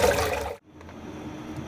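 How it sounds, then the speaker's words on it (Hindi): Cold water poured over small cubes of boiled potato in a kitchen, a brief splash that cuts off, then a softer steady trickle and pour running on close by. "ऊपर ऐसे हम ठंडा पानी डाल लेंगे।"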